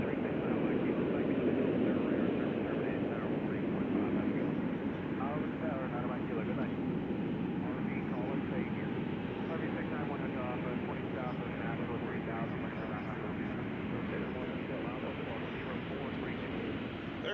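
An airplane at Nashville International Airport gives off a continuous, fairly distant engine rumble and whoosh that holds steady throughout, with a voice talking over it.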